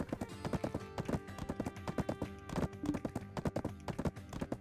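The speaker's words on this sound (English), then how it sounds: "Run, little horsey, run." Horse running in an online combat game, a fast, steady clip-clop of hooves repeating under game music with no talking.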